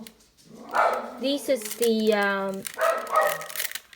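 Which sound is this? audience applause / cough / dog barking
dog barking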